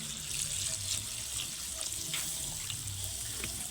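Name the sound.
water poured into pan of cooking jackfruit curry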